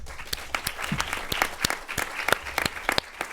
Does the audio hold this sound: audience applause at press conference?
yes